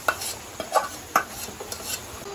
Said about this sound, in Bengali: তো আমি এই ম্যারিনেট করা মাংসটা কড়াইতে দিয়ে দিলাম।